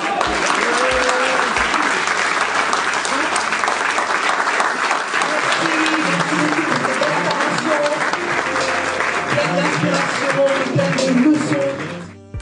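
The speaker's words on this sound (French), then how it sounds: "Les pitchs des 4 entrepreneurs sont suivis par une salve d'applaudissements" Sustained applause fills a conference hall after entrepreneurs' pitches at an African diaspora business event, thick continuous clapping with crowd murmur and voices underneath, fading out at the end.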